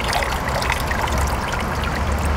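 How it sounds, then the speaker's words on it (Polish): Water trickles and drips steadily from hemp paper pulp as it drains through a mould screen in a frame, a soft, close, continuous dribble with no talking. "Woda odcieka, natomiast włókna osadzają się i w ten sposób powstaje papier konopny"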